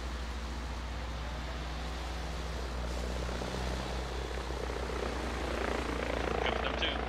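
A video game helicopter flies over a convoy, its loud rotor roar and low engine drone steady throughout and swelling slightly near the end.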